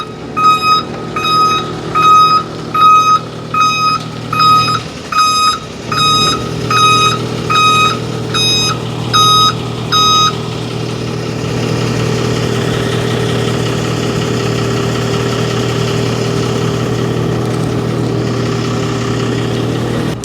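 A Horyong Sky 450 45-metre aerial platform on a Daewoo Maximus truck chassis lowering its outriggers, with a loud pulsing reverse-style alarm beeping over a steady idling diesel engine, then the beeps stop and a continuous hydraulic hum carries on alone.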